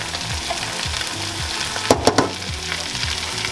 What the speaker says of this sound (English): Now we stir it up.